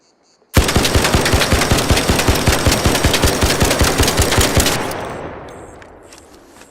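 Rapid automatic gunfire from an Arc Raiders weapon, a steady burst of evenly spaced loud shots lasting about four seconds, then a fading echoing tail.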